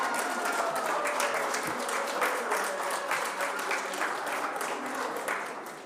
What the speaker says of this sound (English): Let's give all the CTE Skills USA a round of applause.